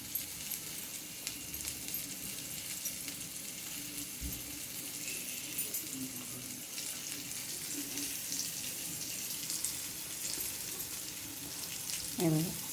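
Rava-coated prawns fry in a pan with a steady, close hiss of sizzling oil throughout, plus a brief clatter near the end.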